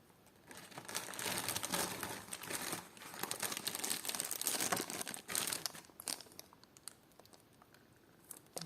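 A small plastic packet holding vintage clip-on earrings crinkles and rustles continuously up close during unboxing, loud in the middle and fading to quiet handling at the end.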